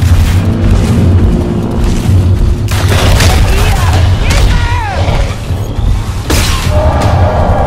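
Gunfire and heavy booms strike the player in the video game Evolve, loud and dense with repeated blasts and crashes, while someone talks over the action.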